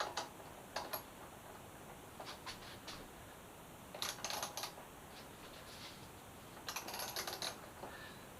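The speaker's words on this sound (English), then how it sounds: "I just have a small ratchet here." A small ratchet clicks in short, quick bursts while loosening a seized bolt on a Suzuki GSX-S 1000F motorcycle. The clicks are faint and close against a quiet hiss, with no talking.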